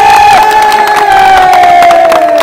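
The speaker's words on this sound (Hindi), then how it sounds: "सभी ताली बजाएंगे इनके लिए।" A crowd of university students in Durg cheers and shouts loudly and continuously, with a sustained chanted or whistled tone running over the noise.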